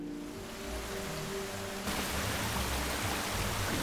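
Heavy storm rain in a film scene, a dense steady hiss that grows louder and fuller partway through, continuous with no voices.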